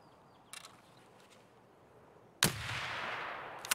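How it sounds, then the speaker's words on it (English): Panicked gunfire from a Scav in Escape from Tarkov: a short sharp crack, then a sudden loud burst that settles into a sustained roar of fire and noise, with no talking. "Yeah, he was panic shooting."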